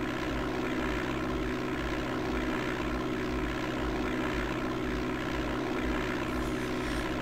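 Propeller airplane engine droning in the DOS game Flight Simulator 5.1 while cruising just under the clouds, a constant loud buzzing hum with a steady low throb, unchanging throughout and without voices.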